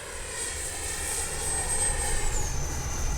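A small jet turbine whines steadily as a HobbyKing Viper 64 model jet flies past, its high pitch slowly dropping, with a low rumble underneath.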